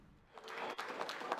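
Applause at an association congress in Benin, faint and distant, building from near silence into a sustained patter of many hands clapping.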